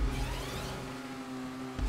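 A car engine revs in GTA 5, a steady mid-level drone holding for under two seconds with no talk over it.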